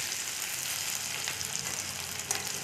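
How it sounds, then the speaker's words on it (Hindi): Onions fry gently in a pan for Maggi noodles, a steady close sizzle and crackle with a few sharper pops, no voices over it. "मैं हल्का सा प्याज को पकाऊँगी और फिर मैं टमाटर इसके में ऐड करूँगी"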